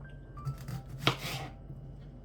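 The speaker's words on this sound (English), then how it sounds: "The tomatillos, I'm gonna cut into quarters." A knife cuts tomatillos into quarters on a board, with a few soft scraping strokes and one crisp chop near the middle, close and quiet.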